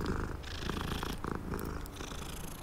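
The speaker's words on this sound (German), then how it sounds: "Nein, hier ist die Katze." A cat purrs in the video game Hogwarts Legacy, a close, steady rumbling purr with a soft rhythmic pulse throughout, heard alone without talk.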